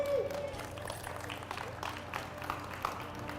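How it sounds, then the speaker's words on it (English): Audience clapping at a 2018 county fair strongman show: a steady, dense patter of many hands that holds at an even level for a few seconds in a large, busy space. "It's okay to clap."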